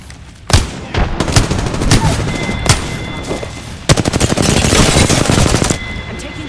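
Automatic gunfire in Apex Legends, sharp loud bursts and rapid strings of shots up close, broken by brief pauses, with a long sustained burst in the latter half over in-game noise.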